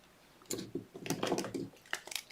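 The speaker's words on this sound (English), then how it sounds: "snip it off" Fine wire is snipped off with small cutters while making a bonsai tree-of-life wire pendant, heard as a short run of close, crisp clicks and light rustles.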